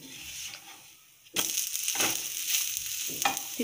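Mixed dal dosa frying in oil on a pan after being flipped, a sudden burst of steady sizzling crackle that starts partway through and continues loud and close, with small scraping touches.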